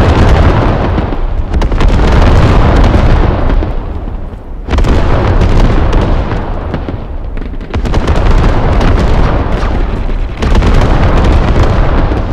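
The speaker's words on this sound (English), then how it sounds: "Fireworks." Loud, sustained barrage of fireworks explosions in the video game Galactic Contention, continuous dense booms and pops in several long bursts separated by short lulls, filling the whole stretch with no talk.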